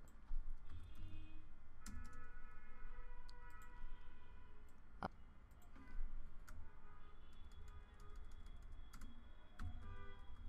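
Continuous typing on a computer keyboard, steady rapid clicks with a few sharper keystrokes, close and fairly quiet over a low background hum, no voices.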